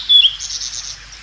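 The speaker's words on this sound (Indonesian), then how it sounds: "Lalu burung merpati itu terbang ke sana kemari." A dove's chirping used as a sound effect in a children's Sunday school story about Noah's ark: a few brief, bright, high tweets near the start, then a soft, airy fade with no voices.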